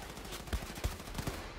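Gunfire in the shooter game Wolfenstein 2, a few separate low thumping shots at an uneven pace over a steady game soundscape, fairly quiet overall.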